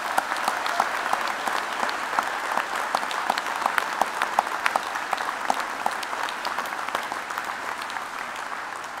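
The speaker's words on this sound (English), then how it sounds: "Let's hear it for the mature graduates." Sustained applause from the audience at a 2014 postgraduate graduation ceremony, a steady, even wash of many hands clapping with crisp individual claps throughout, moderately distant and without talk.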